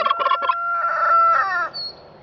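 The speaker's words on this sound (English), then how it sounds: "our rooster, is apparently announcing that the sun has come out" A silver-laced Wyandotte rooster crows loud and close in a backyard flock kept with turkeys, one full multi-part cock-a-doodle-doo call that ends in a short high note.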